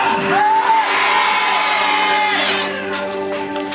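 A church congregation during a worship service cheers and whoops loudly, a dense sustained roar of many voices that stays near and full throughout with a few shouts rising above it.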